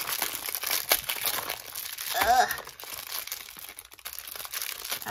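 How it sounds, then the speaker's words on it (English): Crinkly plastic packaging around a set of pastels is handled and pulled open. A close, continuous rustle and crackle runs the whole time, with a brief scratchy tear partway through. "I'm horrible at unwrapping, as you can see."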